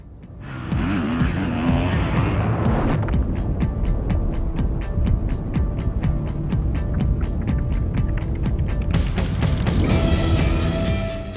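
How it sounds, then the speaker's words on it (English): A Ducati Desmo450 MX factory motocross bike engine revs hard in rapid rhythmic bursts, loud and close, with a sharp rattling crackle that pulses through most of the run. "This is the Desmo450 MX factory, designed and engineered to get the highest level of performance on every track"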